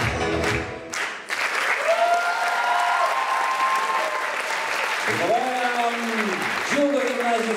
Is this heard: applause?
yes